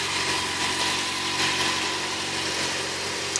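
A low, steady engine idle from a 2013 Yamaha XJ6 motorcycle rumbles continuously at moderate volume, an even mechanical drone with a faint vibrating hum and no talking.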